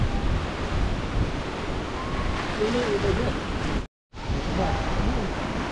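Strong gusting wind from a low pressure system roars steadily over rice paddies and farmland, a dense broadband rush cut by one brief dropout.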